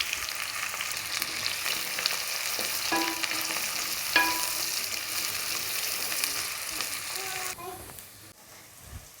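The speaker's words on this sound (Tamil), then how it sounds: "இப்போ கட் பண்ணியிருக்கிற வெங்காயத்தில் பாதியை சேர்த்து கொஞ்சம் நல்லா பொன்னிறமாக வதக்கி" Half the chopped onions frying in hot oil for thaali aanam, a steady sizzle with occasional stirring scrapes of a spoon against the pan, carrying on under a few faint voices in the background.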